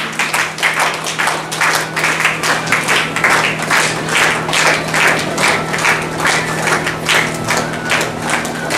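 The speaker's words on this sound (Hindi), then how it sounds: "कृपया तालियां बजाते रहें।" Steady applause from a sizable audience fills the room, dense clapping continuing without a break throughout.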